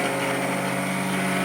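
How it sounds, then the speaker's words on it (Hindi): A household blender grinding rice-cooking ingredients into a paste, a continuous steady motor whine with even, unbroken loudness throughout; no talk. "इसको ब्लेंडर पे लगा दिया,"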